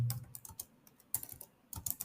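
Fast, irregular clatter of typing on a computer keyboard while entering a formula in Microsoft Excel, close and clear with no talking.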